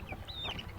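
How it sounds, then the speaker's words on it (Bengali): A chicken of the native or tiger breed gives a brief, soft cluck nearby, a single short call over a quiet farmyard background. "আর এটা কিন্তু দেশি মুরগি, দুইটা এক বয়সী কিন্তু, সেম বয়স ওদের সবার, কিন্তু ও কিন্তু টাইগার"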